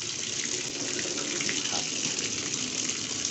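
Water runs steadily from a tap through a garden hose straightened so that it no longer kinks, a continuous even rush with no break.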